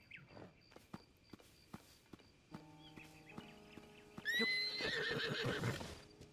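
Hoofbeats of a horse in Zelda: Tears of the Kingdom clip-clop at a walking pace, then the horse gives a loud, close whinny near the end over a steady game soundscape.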